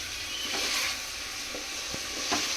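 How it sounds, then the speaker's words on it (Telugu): A spoon stirs vegetables through hot oil in a pan for biryani, a soft steady sizzle with a few faint scraping strokes, quiet and without talk. "ఆయిల్లో మిక్స్ చేయండి"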